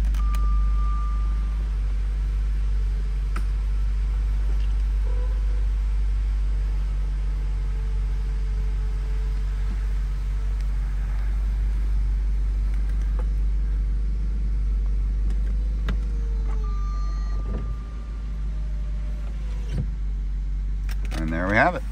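Power roof of a 1999 Jaguar XK8 convertible closing, a steady electric motor whine with a few mechanical clicks and a final latching thunk, over a constant low idling-engine rumble.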